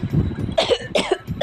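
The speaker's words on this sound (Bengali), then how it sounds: "আমার একটু কাশি হয়ে গেল গিয়া" A person coughs three times in quick succession at home, sharp raspy bursts close to the mic over a low background rumble.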